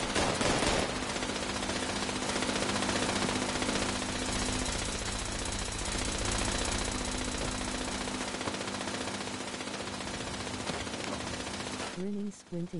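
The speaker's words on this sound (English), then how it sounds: "Alright, who the fuck's shooting?" Rapid automatic gunfire in the video game Fallout, a dense continuous rattle of shots running loud for about twelve seconds before cutting off abruptly.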